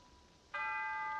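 A clock bell strikes once after a quiet moment, a bright ringing tone that sustains steadily to the end, fairly faint and alone without voices.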